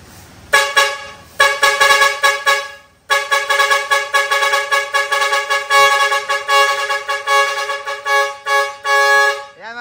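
A stock Bosch horn on a vehicle fitted with an air horn selector honks loudly in long sustained blasts, with a brief break near the start, close to the microphone.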